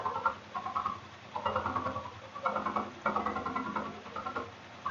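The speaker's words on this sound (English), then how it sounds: "I'm going to go ahead and line up in between that area right there and start sewing" A sewing machine fitted with an AcuFlex foot stitches binding using a decorative stitch, running in short, close bursts of mechanical patter separated by brief pauses.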